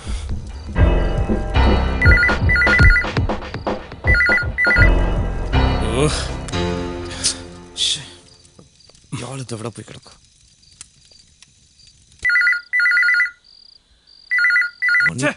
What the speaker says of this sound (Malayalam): ഫോൺ എടുക്കുന്നില്ല